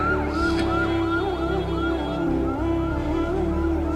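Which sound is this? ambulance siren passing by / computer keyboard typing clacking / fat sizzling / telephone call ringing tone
ambulance siren passing by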